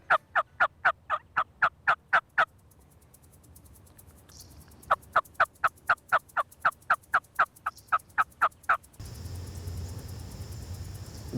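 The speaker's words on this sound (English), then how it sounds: "This lone gobbler didn't need too much of a reason to make the decision to cross the field." A lone wild turkey gobbler gobbles from a field during a hunt, loud rapid bursts in two long rhythmic series separated by a pause, followed by quieter outdoor background.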